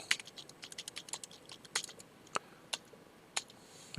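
Someone types on a computer keyboard, a quick run of close, crisp key clicks that slows to a few isolated taps, with no voice over it.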